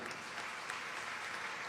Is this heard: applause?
yes